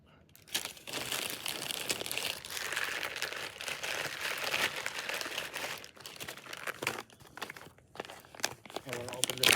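Plastic MRE pouch packaging for an Ameriqual spicy penne pasta meal being handled and torn open, with close, loud crinkling and crackling that comes in bursts over several seconds.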